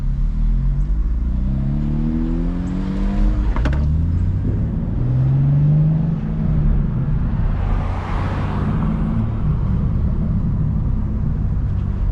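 BMW M2 engine revving on city backstreets, loud repeated rising and falling sweeps followed by a steady drone as the car drives on, heard up close without talking.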